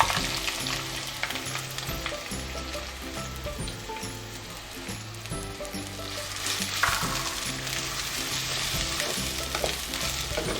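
Finely chopped onions fry in about half a cup of cooking oil in a clay pot, a loud, dense crackling sizzle that runs throughout with occasional stirring scrapes and no talk.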